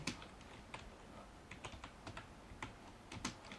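Typing on a computer keyboard, quiet, uneven clicks of keys pressed in short bursts over a low background hiss, with no voices.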